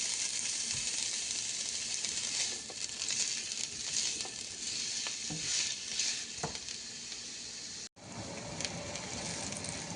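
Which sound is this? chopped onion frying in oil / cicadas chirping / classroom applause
chopped onion frying in oil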